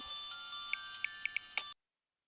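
Phone ringtone playing a bright repeating electronic melody with sharp short beeps layered over sustained tones, fairly quiet, cutting off abruptly partway through and leaving silence.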